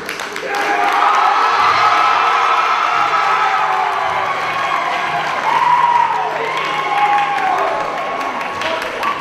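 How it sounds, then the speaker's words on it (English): Convention crowd at a cosplay event breaks into sustained clapping, cheering and whoops, loud and continuous for the whole stretch with shouted voices rising above the applause. "Everyone already knows, clap and or cheer"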